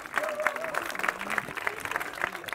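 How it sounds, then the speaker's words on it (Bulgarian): An audience at a rooftop party applauds a speaker, a dense patter of clapping that runs throughout, with voices and a brief call heard over it. "Дами и господа, аплодисменти за Стоил."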